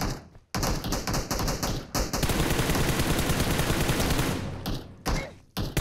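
Rapid automatic gunfire from PUBG Mobile zombie mode, a weapon spitting fireballs at a boss, fires in dense bursts with short gaps between them. The shots sound loud and close, with no talk over them.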